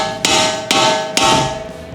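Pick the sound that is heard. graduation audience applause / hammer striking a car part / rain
hammer striking a car part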